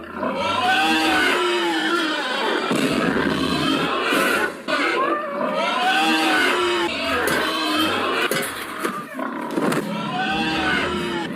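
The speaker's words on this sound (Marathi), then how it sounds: "सुअरों की आवाज आ रही है" Pigs in a video game emit repeated rough, guttural grunts and snorty roars in several drawn-out bursts, fairly loud and close, with a low engine-like hum running beneath.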